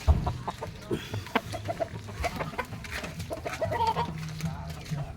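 Two young roosters cluck and squawk close by while sparring, with bursts of scuffling and flapping wings as they tussle, steady throughout.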